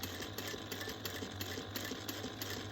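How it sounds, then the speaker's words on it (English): A sewing machine runs continuously, stitching down the side of a pocket on a crossbody bag, with a close, steady mechanical whir and rapid, even needle rhythm throughout. "We're sewing down the side of our pocket."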